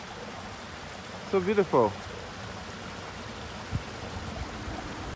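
A water stream flows steadily between houses in a Swiss town, a continuous broadband rushing that stays constant while someone briefly speaks over it.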